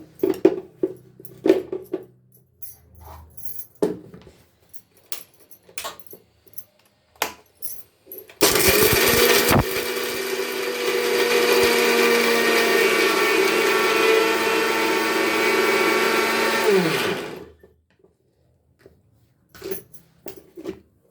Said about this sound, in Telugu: చూసారా ఇలా మెత్తగా గ్రైండ్ చేసుకున్నాను